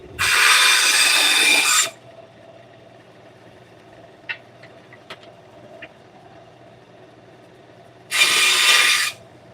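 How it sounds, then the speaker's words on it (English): A bandsaw cuts small square pieces of wood in two short, loud bursts of buzzing at the start and end, with quiet clicks and shop noise in between. "So I'm just going to cut this up on the bandsaw"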